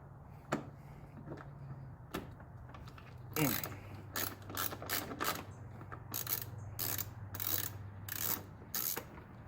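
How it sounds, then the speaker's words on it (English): A 10mm impact socket on a ratchet works a bolt loose while removing the carburetors from a Honda GL1500 motorcycle, giving bursts of rapid, close clicking that come and go, with no one talking. "It's 10mm impact socket. It goes right on there, and that's what we're going to use to get it off."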